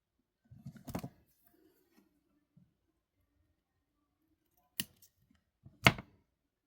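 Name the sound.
scissors snipping off a piece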